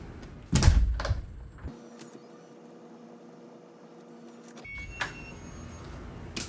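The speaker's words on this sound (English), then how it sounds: "Now I'm going to go ahead and go out and close the door." A door shuts with a heavy, close thud after a Wi-Fi smart lock unlocks, followed by a low electrical hum and a few faint clicks.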